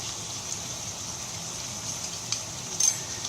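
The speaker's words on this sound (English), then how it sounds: "Give all of this a nice mix." Rice being stirred in a pan with chili flakes and Maggi seasoning, a soft steady scraping and faint sizzle running throughout, with a couple of slightly louder scrapes near the end.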